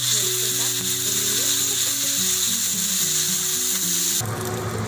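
Garlic cloves, green chilies and coriander leaves frying in a pan: a dense, continuous loud sizzle with steady hiss throughout, close up, shifting slightly near the end.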